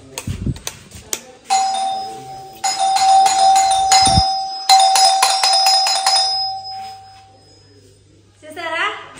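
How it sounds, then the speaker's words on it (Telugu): A newly built home's calling-bell doorbell chimes in two long electronic melodic bursts, loud and close, with short talk and a few knocks before it and a faint hum afterward. "సో అది మా కాలింగ్ బెల్ సౌండ్."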